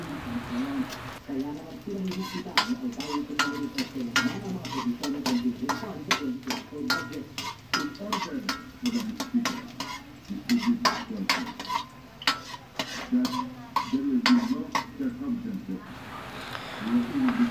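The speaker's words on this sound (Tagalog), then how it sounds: "So sunod na natin ang ating bawang. Okay, gisa-gisa lang, halo-halo lang." Garlic sautés in a pan and is stirred repeatedly, with a constant sizzle and a quick run of utensil scrapes and taps against the pan, while someone talks over the cooking.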